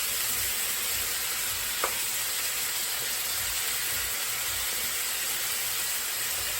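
Steady sizzling of shrimp boudin filling browning in a pan, a constant frying hiss with faint stirring scrapes and no talk.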